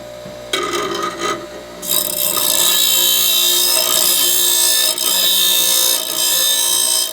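A grinder shapes a beveled, tapered end on an exhaust pipe for a 2019 Audi S3, starting as intermittent scraping and settling into a loud, steady abrasive rasp with no talking.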